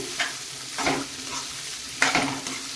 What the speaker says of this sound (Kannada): ಇದನ್ನೆಲ್ಲವನ್ನು ನಾನೀಗ ಚೆನ್ನಾಗಿ ಫ್ರೈ ಮಾಡ್ಕೋತೀನಿ ಎಣ್ಣೆಯಲ್ಲಿ